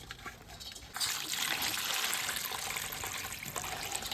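Water pours steadily over crabs being washed, a brief quieter trickle giving way to a fuller, continuous splashing stream close by.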